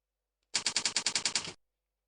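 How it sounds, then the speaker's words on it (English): Typewriter keystroke effect from a PowerPoint text-typing animation: a quick burst of about ten sharp, evenly spaced clacks over one second, close and crisp, with silence before and after. "can add a typewriter sound"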